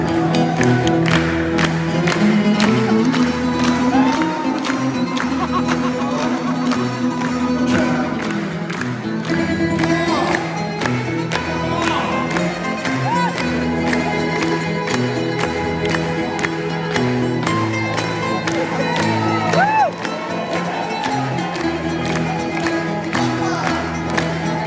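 A concert crowd at a show in Bournemouth claps and cheers, a dense, steady roar of applause and whoops that stays loud for the whole stretch, blended with music-like tones.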